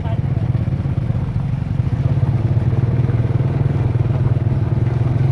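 A motorcycle ridden through the streets of Vientiane, its engine holding a steady low drone with rattling and clatter from the road, loud and close throughout.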